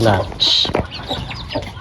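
A Bangkok hen clucks in short, close bursts as she comes down from a raised stilt coop, with someone speaking over the sounds.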